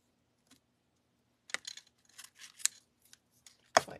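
Scissors snip bow ribbon in a few quiet, separate cuts, with a sharper final snip at the end; no one speaks.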